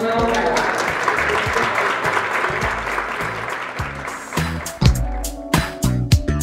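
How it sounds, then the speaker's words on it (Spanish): Audience at a graduates' reunion dinner in Spanish applauds the new graduates, a dense sustained clapping that thins into scattered claps near the end, with voices mixed in. "Un aplauso fuerte para todos ustedes y para los nuevos graduados."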